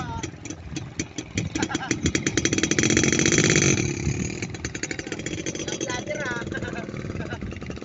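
A motorcycle engine runs up close with a steady mid-pitched drone that swells louder around the middle before settling back, while people talk over it.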